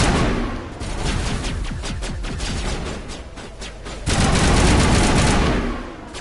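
Rapid bursts of gunfire in the game Mass Effect, aimed at an enemy's shields, crackle in dense overlapping volleys with a louder stretch near the end, under a busy battle mix.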